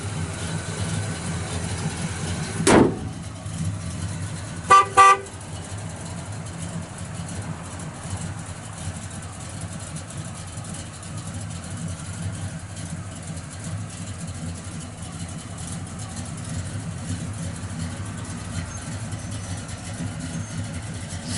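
A 1971 Pontiac LeMans GT-37 idles steadily behind twin tailpipes, a low, even exhaust rumble running throughout, broken by a sharp knock early on and a brief double clatter a couple of seconds later.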